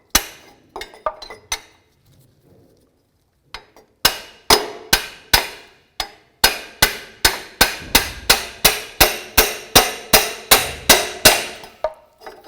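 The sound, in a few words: hammer tapping a punch against a car CV axle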